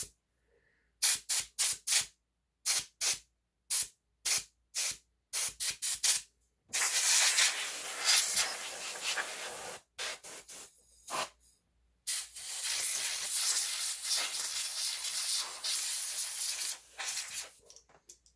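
Compressed air blasts dust out of a 2007 Clevo M590KE laptop, first as about a dozen short sharp hissing bursts, then two long loud sustained blows with a brief pause between, close and with no talking.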